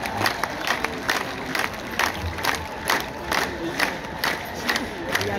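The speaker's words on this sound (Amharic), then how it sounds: "አንድ ላይ ጭብጨባ ጭብጨባ ጭብጨባ" A crowd at a Sidama cultural ceremony, where church fathers receive traditional garments, claps in quick bursts and cheers, steady rhythmic applause with shouts layered throughout.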